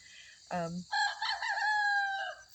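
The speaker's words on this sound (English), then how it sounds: "That's my brand new juvenile rooster over there. He's practicing his crow." A young rooster practicing his crow from a back coop, a short low note followed by a longer wavering, rising-and-falling crow, fairly close and clear with nothing else over it.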